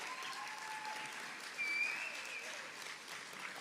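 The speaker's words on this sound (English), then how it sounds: "Let's give her another big round of applause." A quiet, distant wash of audience applause for a speaker at the Treaties 1-11 Gathering, steady throughout with a brief swell in the middle.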